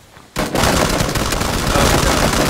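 Loud video game gunfire breaks out after a moment of quiet, a dense, sustained barrage of rapid shots at close range that continues without pause.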